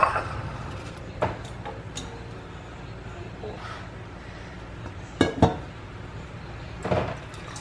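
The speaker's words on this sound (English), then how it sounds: "And I'm gonna ladle this on it." Hot bone marrow broth ladled onto noodles, with a few sharp clinks of the ladle against the bowl spaced out over a quiet kitchen background.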